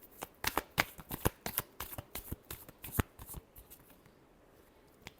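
Tarot cards shuffled by hand close up, a rapid series of crisp riffling snaps and flutters that thin out toward the end.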